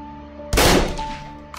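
A single close-range shotgun blast goes off in a video game, from about two meters away, with a sharp loud onset and a decaying roar; quiet game tones hum underneath.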